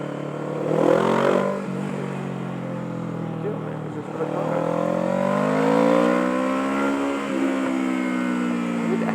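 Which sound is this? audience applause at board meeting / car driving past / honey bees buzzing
car driving past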